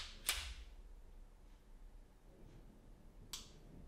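Two sharp, faint metallic clicks about three seconds apart come from the trigger of a .45 auto Defender pistol resetting, each a quick snap in an otherwise quiet room.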